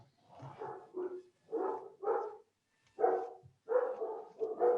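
A dog barks repeatedly in a string of medium-pitched woofs, some doubled, with short pauses between bursts, fairly close and clear with no talk over it.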